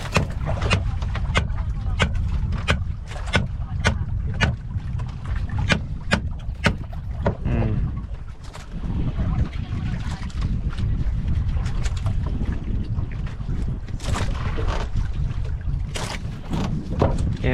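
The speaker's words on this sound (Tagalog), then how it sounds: "medyo gumagalaw kasi yung bangka sa alon" Water sloshing and knocking against a small boat's hull as it rocks on waves, with steady wind noise and scattered sharp clunks throughout.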